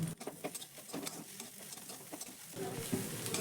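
Grated egg filling being stirred in a pan over a low gas flame, a close scraping and soft patter of a spoon with faint sizzling, steady throughout with no talk.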